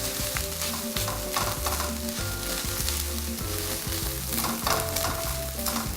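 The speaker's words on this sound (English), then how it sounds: "So we'll just mix it all together now." Tomatoes and vegetables for a spaghetti bolognese sizzle loudly in a pan while being stirred, with repeated scraping strokes over the constant frying crackle and a steady tonal hum beneath.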